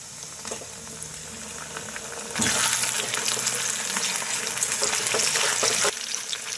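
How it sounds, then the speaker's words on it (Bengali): Chopped chicken frying with onions in a pan hisses and bubbles close by, the sizzle swelling sharply louder partway through, then easing slightly near the end. "দেখো চিকেনটাকে আমি দিয়ে 2-3 মিনিট ভেজে নিলাম"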